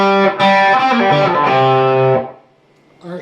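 A distorted electric guitar plays a blues lick with bent notes, a quick run of sustained, buzzing tones that rings out loudly for about two seconds before cutting off.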